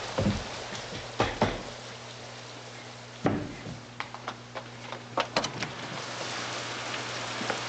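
Rain falls outside in a backyard, a steady patter with scattered louder drops and splashes hitting nearby surfaces, plus a low constant hum underneath; no voices.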